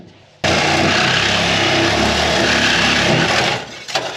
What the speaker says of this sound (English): It's the sawzall.